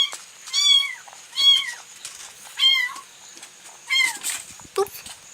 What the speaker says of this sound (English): a kitten in the background, making noises, lots of noises